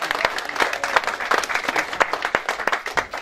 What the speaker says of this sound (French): Vous la remercierez pour nous sur les applaudissements s'il vous plaît.